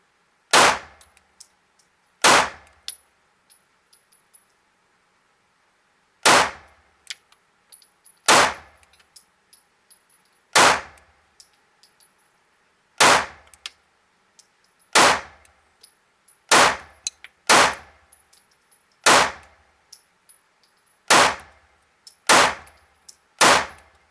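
Sharp single shots from a Smith and Wesson pistol at a range, about fourteen loud cracks spaced irregularly a second or few apart, each ringing briefly with faint metallic clinks between them.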